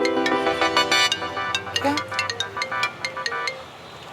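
A mobile phone plays its ringtone, a melody of bright repeating notes ringing out in a quick rhythm, while a voice briefly speaks over it.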